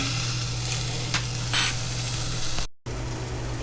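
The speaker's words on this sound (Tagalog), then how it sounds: "So, nagpita muna ako ng bawang, luya, saka sibuyas. So, ginisa ko muna sila." Garlic, ginger and onion sautéing in a pan, a loud continuous sizzle with brief scraping swells from stirring and a short cut to silence near the end; no talking.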